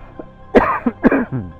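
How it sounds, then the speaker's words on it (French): Someone coughs several times in quick, close, harsh bursts after swallowing a gnat outdoors, with a throat-clearing quality and no talk. "Tu tousses? Non, j'ai avalé un moucheron."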